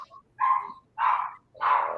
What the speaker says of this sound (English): That sounds like little chihuahuas.